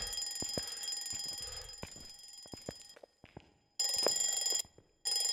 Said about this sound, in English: Ow, that clock is so loud!